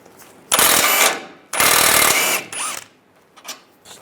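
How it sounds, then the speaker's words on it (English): A ratchet on a 16mm socket works loose a control arm bolt on a 1998–2010 Volkswagen Beetle, sounding as two loud, rapid bursts of clicking, each lasting about a second, followed by quieter scattered clicks and clinks. "Take this bolt out here, use a 16mm socket."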